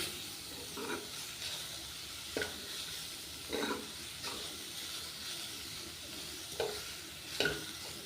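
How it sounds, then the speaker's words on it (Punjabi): Bitter gourd and onions cooking over a low gas flame in two spoonfuls of oil give a soft, steady sizzle, broken every second or so by scraping stirs from a spoon. "ਕਰੇਲੇ ਪਿਆਜ਼ ਆਪਾਂ ਇਕੱਠੇ ਹੀ ਪਾ ਲਏ ਜੀ ਦੋ ਚਮਚੇ ਪਾਏ ਸੀ ਵਿੱਚ ਤੇਲ ਦੇ"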